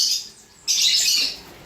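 Pet breeding birds kept as a hobby, chirping and squawking in bright high-pitched bursts, a short call followed by a louder sustained stretch of twittering, close and with no talk.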